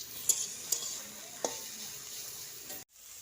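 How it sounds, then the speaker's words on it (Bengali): Leafy greens fry in a pan in a home kitchen, a soft steady sizzle broken by a few sharp clinks of the stirring utensil before the sound cuts off. "আমার শাশুড়ি হচ্ছে রান্না করছে শাক ভাজা, আর এইদিকে হচ্ছে সিম ভাজা"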